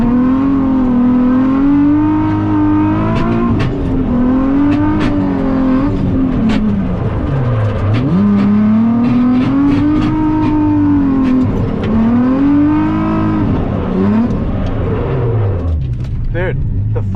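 Nissan 370Z drift car at a drifting event, its engine note rising and falling in long revving sweeps with exhaust roar and tire noise sustained throughout, loud and close, while people talk over it.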